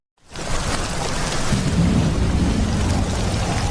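Heavy rain pours steadily from the start, with low rumbling thunder building under the downpour in a cold setting; a dense, continuous wash of sound with no voices.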